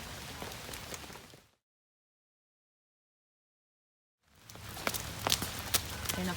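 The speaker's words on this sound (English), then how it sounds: "Rain isn't going to stop us from playing outside." Rain falling outdoors during children's play with footsteps on wet ground, a steady patter with scattered crisp steps near the listener, broken by a stretch of total silence in the middle.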